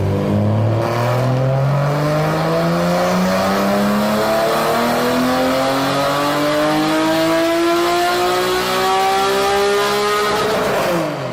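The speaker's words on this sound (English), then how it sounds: "this dyno clip of the build journal car with ARH headers also sounds pretty close too" A car fitted with ARH headers revs hard on a dyno, its loud exhaust note climbing steadily in pitch for about ten seconds, then cutting off at the end, with no talking.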